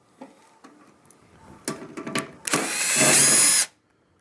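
A power drill backing a screw out of a microwave: a few clicks and short spurts, then a loud continuous whirring run that cuts off abruptly, close and without talk.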